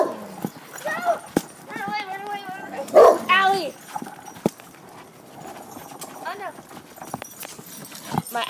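A dog outdoors near a trampoline gives a few short yips and whimpers amid scattered thumps and clicks, with someone talking over much of it.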